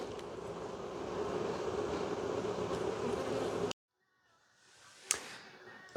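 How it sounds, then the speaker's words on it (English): Bees swarm around honey hives at harvest time, a dense continuous buzzing drone close to the mic that suddenly stops, followed by quieter scattered buzzing and a sharp knock. "see, there's lots of bees"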